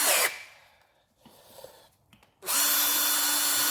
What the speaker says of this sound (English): And then again with the deburring tool